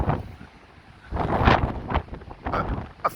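Strong wind buffeting the microphone on the seafront promenade at Blackpool on a wild windy day: gusty low roaring that swells and drops in uneven bursts, close and loud.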